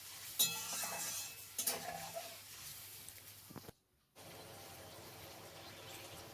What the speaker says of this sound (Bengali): সসটা দিয়ে ভালো করে নাড়াচাড়া করে নিচ্ছি।